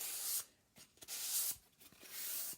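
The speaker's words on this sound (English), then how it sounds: "So all I've done is taken a little sanding block in a fine grit," Steady raspy scraping of a fine-grit sanding block on a brushed-on furniture finish, in several back-and-forth strokes with short pauses between.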